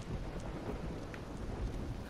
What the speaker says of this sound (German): hör auf mit deinem Gewitter